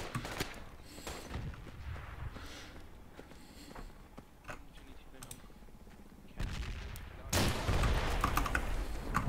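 A video game firefight has bursts of gunfire cracking in quick succession amid a busy battlefield, louder toward the end, with a player talking over it.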